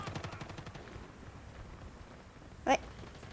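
Rapid gunfire from a video game, moderately loud and rhythmic at first, fading under soft background noise, with one sharp louder shot near the end.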